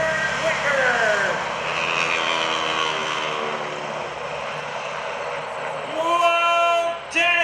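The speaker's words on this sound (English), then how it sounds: "Pulls the airplane up hard over the top, rolls the airplane out. 500 horsepower." A Stearman biplane with a 500 horsepower engine flying aerobatics at the 2012 Greenwood Lake airshow, a loud continuous engine roar rising and falling in pitch as it pulls up and rolls, with an announcer talking over it.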